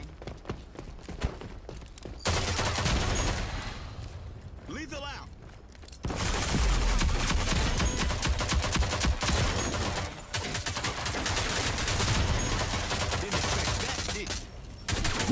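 Sniper gunfire and combat noise from the video game Rogue Company on PS5 rings out in loud, sustained bursts, easing briefly before the shooting resumes at full intensity.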